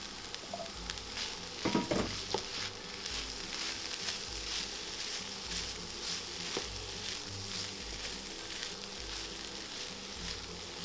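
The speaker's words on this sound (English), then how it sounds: "Now we're going to throw all our veggies in." Chopped vegetables for an empanada filling sizzle steadily in a hot pan, seasoned with chili powder, with occasional stirring clatters and a brief knock of utensils early on; no one talks.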